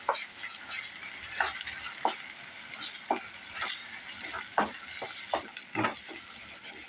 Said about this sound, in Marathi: हे आलं लसूण पेस्ट टाकून घेऊया आणि हे चांगलं आपण परतून घेऊया चांगलं तेल सुटेपर्यंत